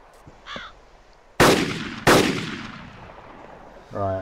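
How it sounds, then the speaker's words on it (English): Two loud, sharp gunshots in the DayZ survival game crack out about a second apart, each trailing a long echoing decay, with faint crow caws before them and another caw near the end. "That's me shooting."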